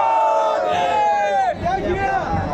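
Festival crowd at a Dhulivandan palanquin procession in Shrivardhan, at a square, roars and cheers in loud, sustained chanting and shouting that swells and surges throughout.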